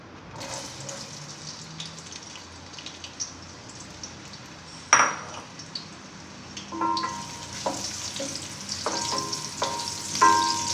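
Chopped onions fry in about a cup of oil in a cooking pot over medium heat, a steady close sizzle with a sudden louder burst midway, followed by stirring scrapes and clinks of utensils against the pan.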